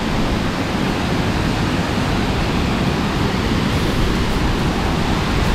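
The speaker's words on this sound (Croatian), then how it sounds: "Da, mokro je jer pršće vodopad." Waterfall spray in the town centre of Jajce, Bosnia, a loud, unbroken roar of falling and splashing water that stays constant throughout.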